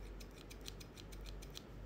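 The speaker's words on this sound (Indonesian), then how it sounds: "Kita harus gunting ya kan." Scissors snip through hair in a quick run of small, soft cuts, a close, faint crisp rhythm over a quiet background with no talking.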